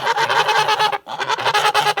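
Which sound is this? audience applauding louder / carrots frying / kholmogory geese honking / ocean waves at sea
kholmogory geese honking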